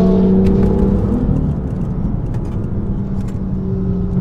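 A BMW M2 at the Mugello racetrack accelerates with a loud, close engine note that builds and then settles into a rough, steady drone inside the car.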